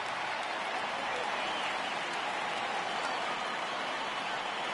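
Simulated stadium crowd noise from a baseball video game on PS4, a steady broad roar rising as fans stand for a full count, continuous and fairly distant throughout.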